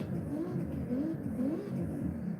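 Car engine revving in the Forza Horizon 6 racing game, a steady mid-pitched drone with gentle wavering rises and falls in pitch, sustained and fairly quiet throughout with no talking.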